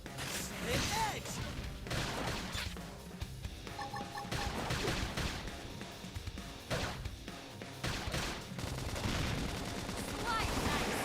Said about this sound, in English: If we can just topple them with gunfire.